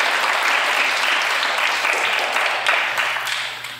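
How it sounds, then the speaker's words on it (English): A hypnosis talk audience gives a sustained round of applause, dense steady clapping filling the room for several seconds and tapering slightly at the end. "I think that deserves a round of applause"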